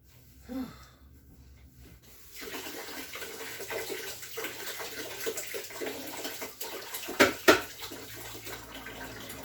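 An item is washed under running water from a tap, giving a steady rush of flow after a quiet start, with a couple of sharp knocks near the end.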